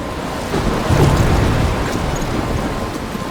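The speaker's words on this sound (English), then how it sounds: "I'm trapped in a storm?" A thunderstorm with heavy rain rages in Life Is Strange, a dense, steady downpour hissing close by while a low rumble of thunder swells early and then rolls on under the rain, with no voices.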